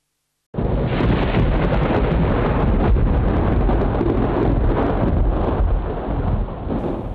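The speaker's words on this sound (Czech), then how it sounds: "Takhle zachytil letošní nejsilnější bouři svým fotoaparátem Bohumíňák Rostislav Doleček." Violent windstorm at night on a hillside near family houses, a constant loud roar of gusts buffeting the camera microphone, starting abruptly and holding steady throughout.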